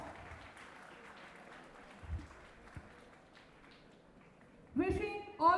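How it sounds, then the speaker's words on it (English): An audience at a Holy Cross College Agartala graduation ceremony claps steadily at moderate volume. Applause swells near the end as a voice speaks. "Kindly appreciate her with a big round of applause."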